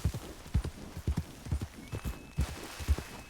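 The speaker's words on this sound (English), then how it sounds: "I hear a horse." Horse hooves clip-clopping in a medieval roleplay video game, a steady walking rhythm of fairly faint, evenly spaced hoofbeats with a thin tone entering partway through.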